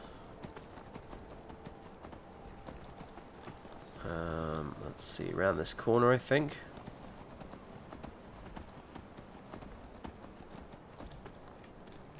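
Steady clip-clop of horse hooves in the game Skyrim, with a loud whinny in the middle, under someone talking.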